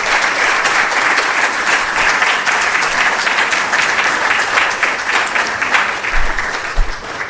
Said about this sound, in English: Once again, can we give us a round of applause?